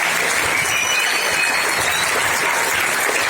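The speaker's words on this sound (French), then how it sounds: "Mesdames, Messieurs, je pense qu'il mérite véritablement une ovation de votre part." Audience applause after a hypnosis show, a dense, steady wash of clapping from a crowd that holds evenly for several seconds with no talking over it.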